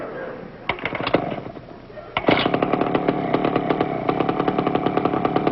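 A small motor, like an outboard, runs in a TV studio with a fast, even popping chug that steadies and grows louder, while voices and audience noise sit under it.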